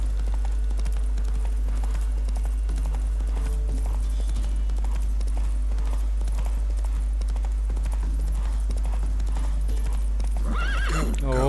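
Horse hooves clip-clop steadily through a ride in The Witcher 3, with a whinny near the end over a constant low hum of game ambience.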